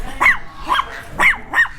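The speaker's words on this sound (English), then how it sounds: "The little puppies. Oh, they're sweet." Puppies bark in four short, high yips spaced about half a second apart, close by and fairly loud, with no talking over them, amid a monkey enclosure in Naga City, Philippines.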